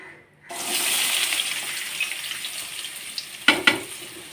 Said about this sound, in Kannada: ಹುಲ್ಲು ಸ್ವಲ್ಪ ಎಣ್ಣೆ ಚೆನ್ನಾಗಿ ಕಾಯಬೇಕು ಈರುಳ್ಳಿ ಹಾಕ್ತಾ ಇದ್ದೀನಿ